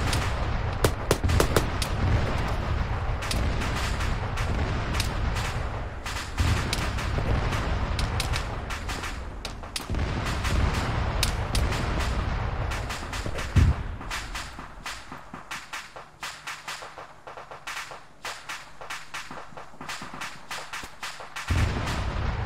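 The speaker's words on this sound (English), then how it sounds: "Mortars" Mortar fire and other weapons in a military video game, a dense, sustained barrage of cracks and thuds with deep booming impacts, loud and continuous, thinning slightly toward the end.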